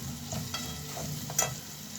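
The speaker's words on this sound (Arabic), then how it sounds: "هنفضل نقلب لحد ما تدبل اهي." Vegetables fry in a pan and are turned over and over until they wilt, a soft steady sizzle broken by light scraping strokes and one sharper clink.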